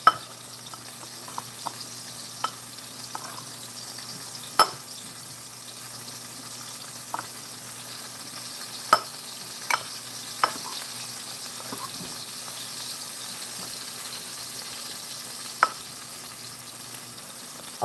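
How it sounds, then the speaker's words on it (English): Chanterelle mushroom caps frying in a pan, a soft steady sizzle with scattered crisp pops and crackles, fairly quiet and alone. "I like to fry the cap first."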